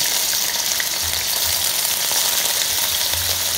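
Ingredients for chopsuey frying in a hot oiled wok, a loud steady sizzle and crackle filling the whole stretch with no voices.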